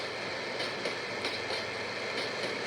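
CF7 locomotives passing on rails, heard as a steady, broad rumble with faint rhythmic clicks from the wheels, fairly even in loudness and moderately distant, with no talk.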